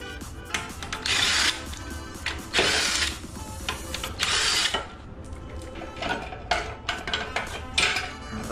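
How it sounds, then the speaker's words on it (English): Metal parts clatter and ratchet as the jack shaft is pulled off a Coleman CT200U minibike, with repeated scraping, clicking bursts of varying loudness close by and no talk. "go ahead and pull off this jack shaft"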